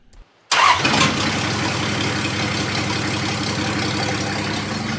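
A 1954 Ford F600 truck engine cranks and catches after a short quiet moment, then settles into a loud, steady rumbling idle close by.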